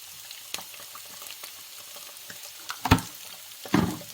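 Fried eggs sizzle in a pan alongside stir-fried potatoes, a soft crackling hiss broken by a few sharp clinks and scraping bursts near the end, fairly quiet with no talking.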